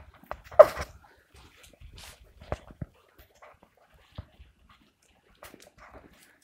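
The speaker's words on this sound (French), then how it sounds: "Là, il y a des chiens derrière le portail." Several dogs behind a gate bark and yip in short scattered bursts from a moderate distance, with quiet gaps between them and a soft whimper mixed in.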